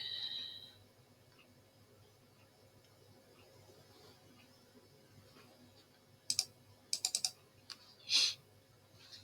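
Faint room hum, then a quick burst of keyboard clicks near the end, a few sharp keystrokes in a short irregular cluster.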